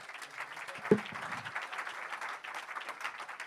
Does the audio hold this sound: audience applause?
yes